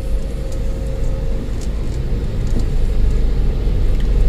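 A Daihatsu All New Terios engine roars steadily in second gear while climbing a steep uphill road in East Java, a loud, continuous low drone that swells slightly toward the end.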